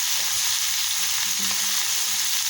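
Brinjal and green chillies cook in a pan with a steady, even sizzle that holds at one level throughout, with faint stirring scrapes in the low end and no voices.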